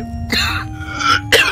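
A few short, rough coughs and throat clearing, close and loud, with brief pauses between them.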